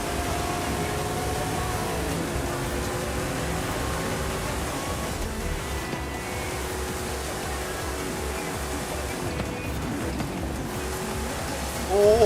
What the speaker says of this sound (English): F1 and F1 GT battling it out.